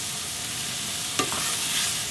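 Mushrooms stir-fry in a little oil with a pinch of salt in a pan, a steady low sizzle broken by a single sharp scrape of the utensil partway through, with no voices.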